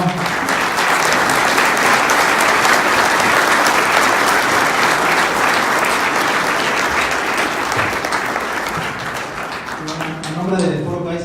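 An audience at a conference applauds a speaker, sustained loud clapping from a crowd that fades toward the end as a voice begins.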